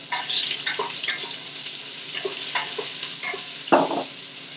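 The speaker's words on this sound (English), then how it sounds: "I'm going to put my beautiful onions and garlic and start to saute them." Onions and garlic sauté in a pan for arroz caldo, a moderate crackling sizzle with repeated scraping strokes of a utensil and one louder clatter near the end.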